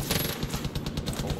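Rapid automatic gunfire from Far Cry 5 rattles in a dense, loud burst of closely spaced shots lasting about a second and a half, with no talk over it.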